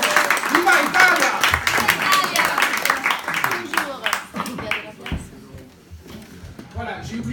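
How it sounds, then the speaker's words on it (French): An audience at a jazz trio concert claps for two Italian women arriving late, with dense clapping mixed with voices and cheering that thins out toward the end. "applaudissements pour les deux Italiennes qui arrivent en retard."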